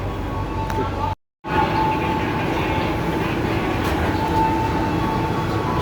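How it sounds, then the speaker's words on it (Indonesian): A crowded passenger train for farmers and traders near Rangkasbitung, West Java, rumbles along with continuous rolling clatter, a brief dropout near the start, then steady rail noise throughout. "Ini kereta rangkaian petani dan pedagang."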